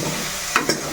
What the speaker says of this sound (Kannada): ಇವಾಗ ಹಸಿಮೆಣ್ಸಿಕಾಯಿ ಹಾಕ್ತಾಯಿದ್ದೀನಿ. ಚೆನ್ನಾಗಿ ಮಿಕ್ಸ್ ಮಾಡ್ತಾ ಇದ್ದೀನಿ.